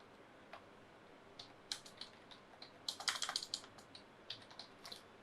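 Quiet typing of a password on a computer keyboard, a short run of light clicking keystrokes in uneven bursts with a quick cluster near the middle, close but soft.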